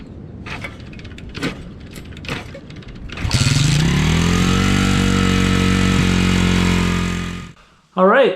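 SSR 110 pit bike with a new carburetor fired up with the choke on: a few starting pulls and clunks, then a steady, loud single-cylinder engine running close by for several seconds before cutting out, with a brief rev at the end.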